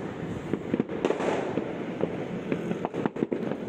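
Fireworks pop and crackle repeatedly in the distance at a New Year's Eve display in the Philippines, irregular bursts over a continuous rumbling background.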